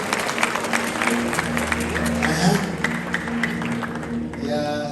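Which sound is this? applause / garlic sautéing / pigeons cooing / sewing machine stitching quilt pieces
applause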